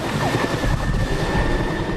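RFS firefighting helicopter flying near a bushfire west of Nowra, Australia, a loud steady rotor and engine drone with low thumping beneath a faint whine, close and continuous.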